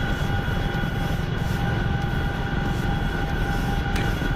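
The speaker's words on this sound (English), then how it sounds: "Damn Chinook. It stutters like that because of the optimization of the Chinook doesn't exist yet." A Chinook helicopter in the video game Scum gives a steady, loud droning engine roar with a constant tonal hum running throughout, and no talking.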